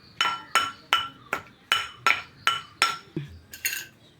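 Shallots and tamarind being pounded into a chutney, about ten sharp, evenly spaced knocks with clinking, ringing impacts, close and fairly quiet, with nobody speaking.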